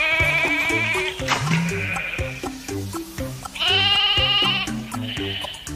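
Sheep bleat in drawn-out, wavering cries, loud and close, over a bouncy rhythmic backing track, with a second long bleat following after a pause.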